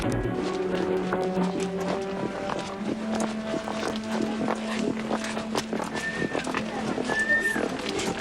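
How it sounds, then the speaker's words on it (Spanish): Horses pulling a horse-drawn tram trot along a long, narrow city street with rhythmic clip-clopping hooves, joined by neighs and bell-like tones over ambient noise. "Los nuevos tranvías a caballo recorrían al trotecito las calles largas y angostas de la ciudad."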